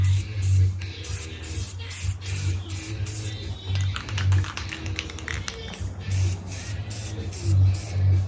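Aerosol spray paint hisses onto a Jeep Wrangler TJ plastic plate holder trim in repeated short bursts with brief pauses between them. A steady low hum runs underneath the whole time.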